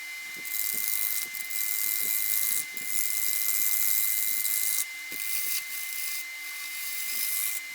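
Wood lathe cutting a spalted hackberry log while the outside is shaped and a tenon formed, a bright hissing shear of tool on spinning wood in repeated passes broken by short pauses, with a steady motor hum beneath.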